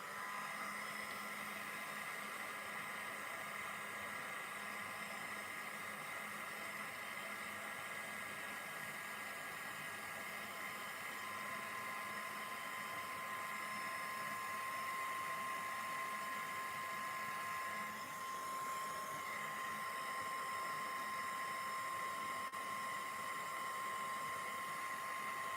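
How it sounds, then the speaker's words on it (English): A heat tool blows continuously while heat-setting ink on a handmade Christmas card, a steady close whooshing hum throughout with no talking. "So I'm going to heat set this,"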